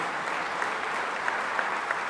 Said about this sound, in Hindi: जरा जोरदार तालियां हो जाए,